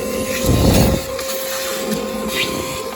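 A battery-powered vacuum cleaner sucks debris out of an air conditioner coil, a steady close whine with a louder rumble as it draws in material, while someone talks over it.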